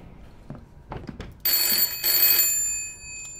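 An old bell telephone rings inside the horror game Layers of Fear, a bright metallic ring in two bursts after some faint soft knocks, fairly loud against a quiet background.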